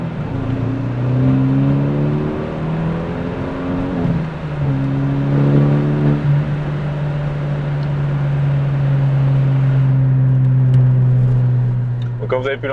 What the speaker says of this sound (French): comme vous avez pu l'entendre, on a une ligne d'échappement qui a été refaite en inox, donc en 76 mm